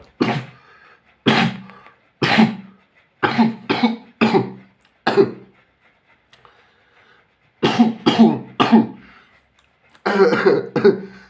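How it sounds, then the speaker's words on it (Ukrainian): A person with a cold coughs repeatedly in short bursts, close and loud, with brief silent pauses between groups of harsh coughs. "можна вирізати цей фрагмент, де я кашлюю"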